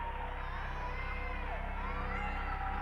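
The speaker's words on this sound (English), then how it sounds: "all while the sounds of audience applause mix with the horrifying cries of children." A steady crowd roar of cheering and whoops blends with shrill children's shouts in a Poppy Playtime horror game trailer, loud and continuous throughout without pause, with no talking over it.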